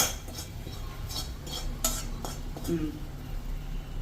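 A spoon scrapes and stirs tomato, garlic, ginger and cashews in a pan with faint sizzling underneath, a few sharp metallic clinks, close and moderately quiet.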